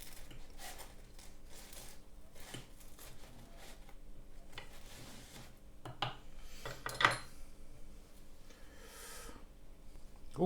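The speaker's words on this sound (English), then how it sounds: "Cut it in the middle." A knife cuts through a Tesco cheese and onion pastry slice on a plate, giving faint scraping and clinking taps with a few louder clicks, close by and with no talking.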